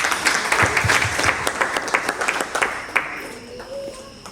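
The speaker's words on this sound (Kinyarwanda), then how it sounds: "tubakomera amashyi" An audience at a Burundian awards event applauds steadily with dense clapping throughout, fading slightly toward the end as faint background sounds emerge.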